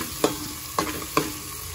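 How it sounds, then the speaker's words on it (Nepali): Garlic-ginger paste and chili frying in a pan, with three sharp stirring scrapes against a soft, steady sizzle; close and moderately loud, no voices. "लसुन अदुवाको पेस्ट पनि हल्का भुटिरहेको छ, रातो हुँदैछ"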